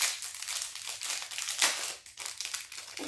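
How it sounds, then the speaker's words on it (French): Cardboard and plastic packaging of an Essence advent calendar being opened, close crinkling and crumpling in a continuous rustle with a few sharper tearing bursts, no talking. "Attendez, on va l'ouvrir."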